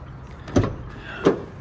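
A van door opens with two short close mechanical thunks about 0.7 seconds apart, heard alone against a quiet background.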